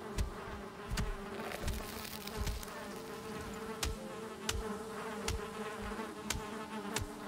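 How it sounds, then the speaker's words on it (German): Bees swarm around a beehive in the video game Valheim with a steady close buzzing hum, broken by regular sharp clicks and thumps. "Hier ist wieder ein Bienenstock."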